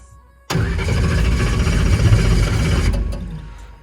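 A race car engine with an older Enderle fuel pump cranking hard after a short quiet start, a loud continuous churning crank that briefly tries to catch before stopping, close up with no talk.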